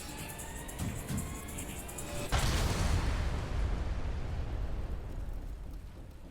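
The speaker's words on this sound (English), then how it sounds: "That was kind of a cheap explosion." Explosion in the video game AI: The Somnium Files – nirvanA Initiative: a sudden loud blast erupts after a buzzing lead-in, then a long rumbling roar slowly fades.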